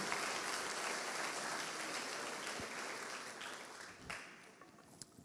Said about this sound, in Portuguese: Vamos aplaudir o Senhor por sua sabedoria.